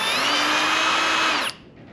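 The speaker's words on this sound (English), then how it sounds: "if I undo that now with the drill, it'll come with it and bring that threaded" A power drill whines steadily and loudly as it undoes a stuck threaded bolt on a 1989 RM 250 motorcycle, then cuts out abruptly about three-quarters of the way through, leaving a quiet tail.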